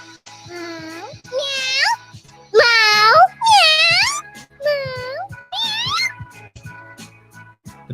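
A cat meows repeatedly in a series of drawn-out, rising and falling cries, close and loud, with brief gaps between calls and a low hum underneath.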